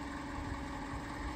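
A 2014 Isuzu crew-cab box truck with a 5.2 diesel engine idles, a steady low rumble with a constant hum and no change in pace.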